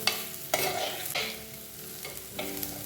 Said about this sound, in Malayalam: കുറച്ച് ചെറിയ ഉള്ളി കൂടെ ആഡ് ചെയ്ത് കൊടുക്കാം. പച്ചമുളക്. ഇതെല്ലാം കൂടെ നന്നായി ഒന്ന് വഴറ്റിയെടുക്കണം.